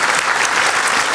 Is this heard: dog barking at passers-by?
no